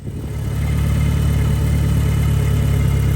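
1991 Mitsubishi 3000GT VR4 engine turning over and catching, a loud steady rumbling drone that builds in the first half second and then holds evenly, close by with no talking.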